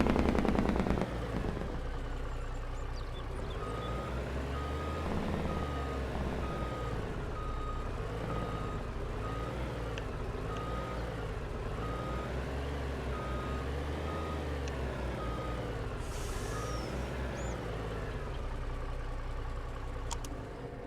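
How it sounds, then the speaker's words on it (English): Truck engine brake in a video game, a loud sustained rattling growl that rises and falls in a repeating wave pattern, with faint beeps and clatter over it and no talk. "I'm tempted to just go out and drive around the map in this thing just so I can listen to the fucking Jake break."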